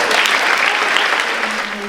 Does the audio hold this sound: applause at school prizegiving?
yes